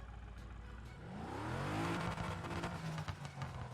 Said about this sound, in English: I just like the rumble that it has too, because of that V8 engine that it has in there